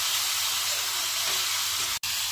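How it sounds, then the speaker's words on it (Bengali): Masala being stirred and fried in a pan, a continuous bright hissing sizzle, steady and moderately close, with a brief cut near the end and no talk. "এটাকে নাড়াচাড়া করে একটুখানি মশলাটাকে কষিয়ে নেব"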